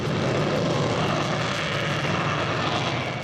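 Military aircraft roaring over a desert during an air force exercise, a loud, steady, dense engine rumble that fills the whole clip without letup and with no voices.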